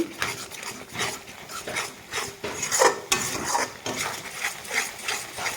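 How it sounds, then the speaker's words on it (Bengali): Spice paste with a little sugar being stirred and sautéed in a pan for a vegetarian potol paneer dolma, with repeated scraping strokes and soft sizzling, fairly close and steady, no talking. "মশলাটাকে ভালোভাবে আমি কষিয়ে নিব"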